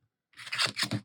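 Scissors snip through material for a handmade corset journal notepad: a short, close crunching cut in a couple of quick bursts after a moment of silence.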